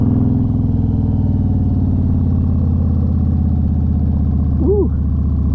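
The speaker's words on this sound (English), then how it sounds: "Gonna have to downshift for this." A car engine on a hill after a downshift, a loud, steady low rumbling drone heard from inside the vehicle, with a brief faint squeak near the end.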